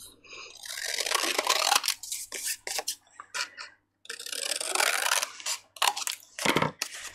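Scissors snip through a long, thin strip of vintage floral paper, a run of close, crisp crunchy cuts with brief pauses between strokes, clear and alone.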